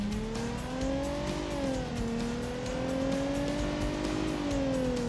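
A Crown Victoria with a 3.5-liter V6 accelerates hard in the BeamNG driving game, its engine droning loudly and steadily as the pitch climbs, dips at a shift, then rises again.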